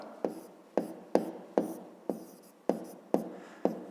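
A pen writes on paper while a fifth-grade math problem is solved, giving eight crisp, evenly spaced scratchy strokes about half a second apart, close and fairly quiet, with no speech.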